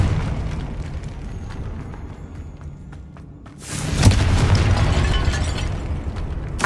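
In Hogwarts Legacy, a Confringo blasting spell erupts into a loud, close explosion after a quieter stretch of ambience. It rolls on as a sustained roaring rumble with crackling debris.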